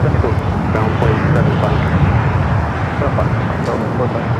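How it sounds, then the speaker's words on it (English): Embraer ERJ 145LR regional jet taking off from Los Angeles International Airport's south side, a continuous low engine roar heard at a distance, steady throughout, with a voice talking over it. "We do have a JSS heading to Scottsdale, Arizona, ERJ 145LR, taking off on the south side, rotating off 25 at the left"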